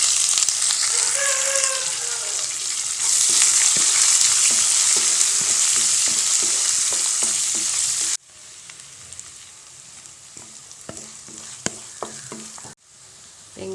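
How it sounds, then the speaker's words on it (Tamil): Chopped onions sizzle loudly in a pan with chana dal for South Indian coriander rice, with steady frying hiss, scraping stirs throughout, and a brief quieter pause after the first half. "வெங்காயம் நல்லா வதங்கிருச்சு."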